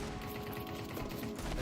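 Rapid gunfire from a Counter-Strike 2 match, a dense fusillade of loud close shots fired in quick bursts over a steady background din, with no voices.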